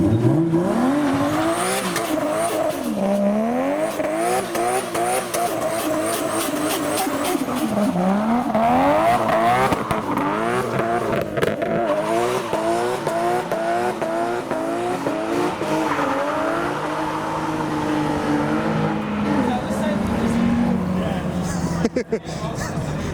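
A modified Suzuki Ignis revs repeatedly at a street car meet, its engine rising and falling in pitch in quick, sustained bursts, loud and close, with crowd chatter and other engines in the background.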